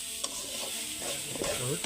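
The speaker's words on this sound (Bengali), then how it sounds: "এই যে ভাজা ভাজি করা হচ্ছে কেবল পেঁয়াজ ভাজা" Onions frying in a pan, cooked outdoors for a picnic: a soft, continuous sizzle with brief scraping stirs, fairly quiet and close, with no speech.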